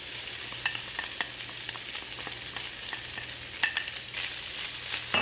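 Rice goes into a hot pan for vegetarian fried rice over medium-high heat, giving a soft, steady sizzle with scattered light scraping and stirring clicks, fairly quiet and close, without talk.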